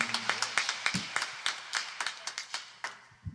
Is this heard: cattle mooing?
no